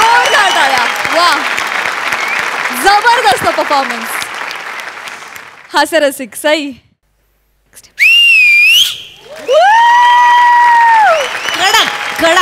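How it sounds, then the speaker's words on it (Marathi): A studio audience at a Marathi TV comedy show claps loudly after a comic act. Dense applause mixed with whistles fills the first seconds, then a host speaks with short whistle bursts between the lines. "जोरदार टाळ्या"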